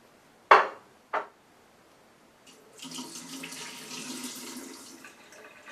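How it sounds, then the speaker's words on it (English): Soaking water is poured off sun-dried tomatoes in a kitchen. Two quick splashes come first, followed by a steady, soft stream of pouring water, heard close with no talking. "going to dump off all the water from my sun-dried tomatoes"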